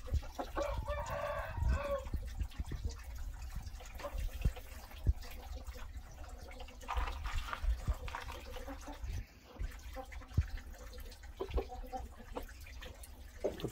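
Chickens clucking with a rooster crowing among them, a busy steady mix of poultry calls throughout, with faint background noise.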